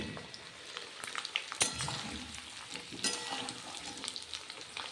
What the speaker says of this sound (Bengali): খুব সুন্দর করে আলুগুলো এই মশলার সঙ্গে ভেজে নেব, মানে ফোড়নের সঙ্গে